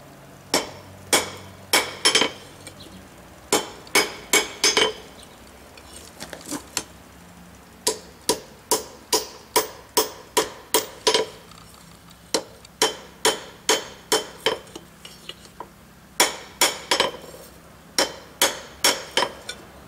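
A blacksmith hammers ridges out of a pair of forged tongs, producing sharp ringing metal strikes in quick bursts of several blows with short pauses between, loud and close throughout.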